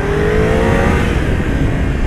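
A motorcycle engine droning steadily while riding, loud and constant with heavy wind noise buffeting over it and a faint rising engine tone.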